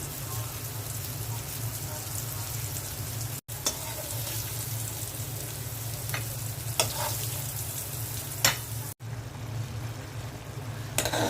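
Sweet pumpkin slices sprinkled with black cumin fry in oil with a steady, close sizzle and crackle, with occasional sharp taps and clicks from the pan.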